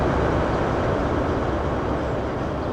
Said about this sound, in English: Yeah, let's leave the train running.